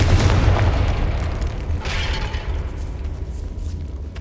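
A Confringo blast spell explodes in Hogwarts Legacy with a heavy deep boom, followed by a long rumbling decay and some debris-like crackle, with no voices present.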